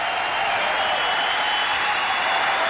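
Tennis crowd applauding Lucic-Baroni at a 2014 Quebec match, steady dense clapping from a large audience sustained throughout, no voices.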